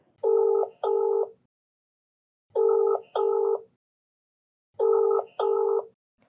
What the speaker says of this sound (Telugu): ఒకసారి ప్రదీప్కి కూడా కాల్ చేద్దాం మనం